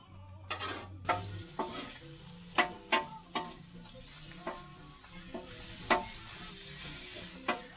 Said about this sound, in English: We're gonna start cooking our sausage